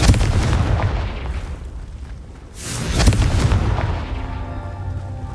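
Booming blasts from a Confringo fire spell in the video game Hogwarts Legacy: one heavy explosion at the start, a second sharp burst midway, each followed by rumbling decay, loud and close.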